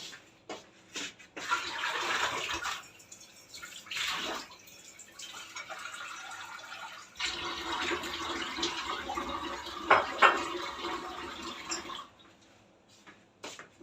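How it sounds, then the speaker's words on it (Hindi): Water gurgles and splashes steadily as it pours into a cooking pot of sweet potatoes, stopping briefly and then running again for several seconds. "थोड़ा सा देखो आपके सामने पानी डाला है।"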